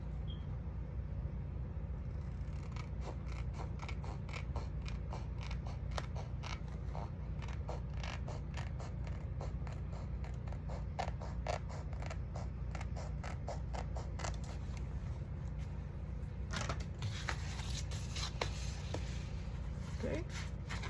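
Scissors trim a paper mini calendar with a quick series of crisp snips and cuts, close and fairly faint over a low background hum.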